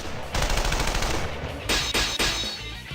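Heavy artillery gunfire in the Persona 4 Arena fighting game, loud sustained bursts of rapid shots with brief breaks between volleys, no talking.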